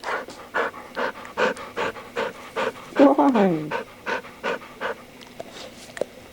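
A dog pants close by in fast, steady, rhythmic breaths for several seconds, with a short spoken voice cutting in midway.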